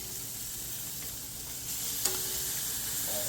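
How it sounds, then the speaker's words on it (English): Steaks sizzling and frying on a scrap-metal welded BBQ grill outdoors, a steady close hiss throughout with a brief clack of a utensil partway through. "Let me see if I can flip the steaks over."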